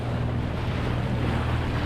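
Motor boat engine droning steadily while crossing Halifax Bay, a constant low hum blended with wind buffeting and water rushing past the hull.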